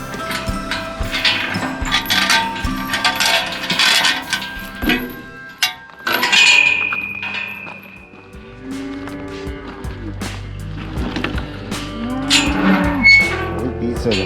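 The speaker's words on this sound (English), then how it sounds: "You're very good cows" Cattle on an open range in the Oregon Outback moo repeatedly, several long, loud calls rising over a busy outdoor background, with a voice heard briefly.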